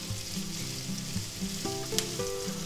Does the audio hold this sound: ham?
yes